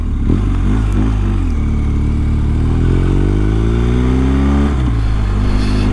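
BMW R1250GS motorcycle with a BT-Moto Stage 1 upgrade accelerating on a straightaway through the gears, its boxer engine loud and close, rising in pitch twice with a shift between pulls.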